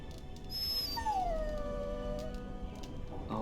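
A dog whimpers and howls in the video game Dragon Age Origins, set in Castle Cousland: one long, drawn-out whine that falls in pitch, over a steady ambient background.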